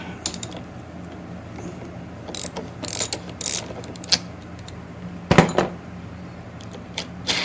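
A ratchet wrench undoing an inverter cable connection, bursts of fast metallic clicking in short runs with pauses between, close and fairly loud.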